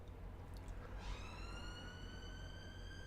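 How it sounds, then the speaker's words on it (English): Ambulance siren in the city-building game Cities Skylines, a rising wail that settles into a steady high tone over a constant low traffic hum, moderately loud and alone without talk. "That's the ambulance that time."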